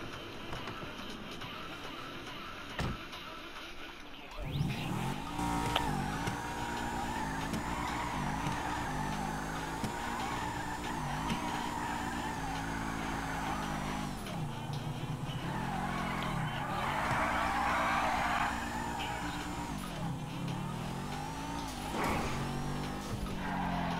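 A car in Grand Theft Auto 5 revs, drives and skids, with a steady engine drone rising and falling, tire squeals swelling midway, and faint background music.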